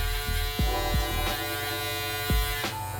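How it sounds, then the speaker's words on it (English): A BLOWOUT FX3 electric shaver buzzes steadily through curly hair at a barber's chair, close and constant, with brief strokes of pitch change as the blade passes over the head and no talk. "Using my FX3 shaver by BLOWOUT."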